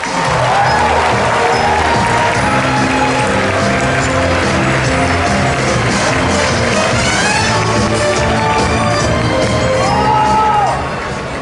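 A large audience at the Disney Legends awards ceremony at the D23 Expo applauds and cheers loudly and steadily, with whoops rising from the crowd before the noise cuts off near the end.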